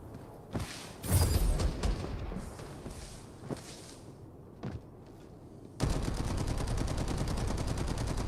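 Gunshots in Farlight 84, a handful of sharp single cracks spaced irregularly, then a loud sustained burst of rapid fire in the final seconds.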